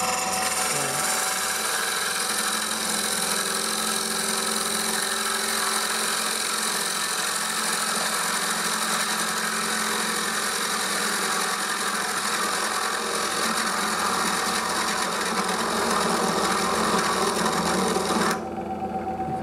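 A bowl gouge makes a light finishing cut into very dry wood on a spinning lathe, giving a steady, close, continuous rasping hiss over the motor's hum that stops abruptly near the end.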